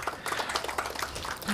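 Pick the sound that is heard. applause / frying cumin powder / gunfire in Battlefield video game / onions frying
applause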